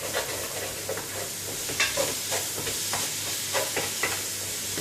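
Beef mince with garlic powder stirred in a pan, a continuous close sizzle broken by repeated scraping strokes at an irregular rhythm, moderately loud and free of speech.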